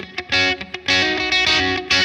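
An electric guitar through a Bad Cat Black Cat amp with the treble all the way up rings out in short, bright, crispy chords and picked notes, close and loud with no talking.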